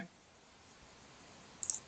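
A computer mouse gives a quick, close click or two near the end of an otherwise quiet stretch.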